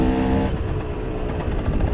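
A KTM 125 EXC two-stroke enduro motorcycle engine buzzes steadily at close range, a raspy, high-pitched drone with slight fluctuations in pitch.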